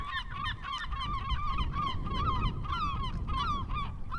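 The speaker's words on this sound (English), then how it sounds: "This particular type of seagull is a herring gull." Herring gulls and black-backed gulls calling along the eastern Long Island shore, a steady run of repeated honking cries over a windy, rushing background.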